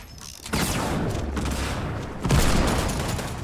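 Rapid gunfire from a rocket launcher in the game Fortnite, with dense, loud bursts of shots and blasts filling most of the clip and a heavier burst partway through.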